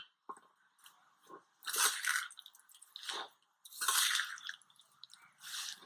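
Sun-dried grated mango is worked into a mango and bitter gourd pickle masala by hand, making close, moist squishing and crunching bursts that come in irregular clumps with short quiet gaps between.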